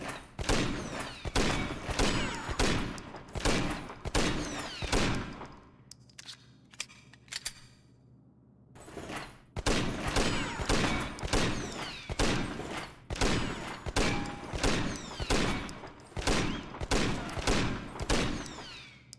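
Pistol gunfire in the video game Red Steel, many sharp shots in quick bursts, loud and close, with a short quiet pause in the middle before the rapid firing resumes.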